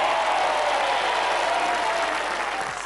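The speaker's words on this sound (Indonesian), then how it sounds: "tepuk tangan untuk Mbak Ani." A studio audience on a television game show claps together, producing an even, sustained roar of applause that tapers slightly at the end.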